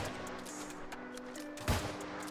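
A single sharp gunshot cracks out once near the end of a short stretch of steady game background hum, fired while aiming for a headshot in the New World online role-playing game, played with a controller.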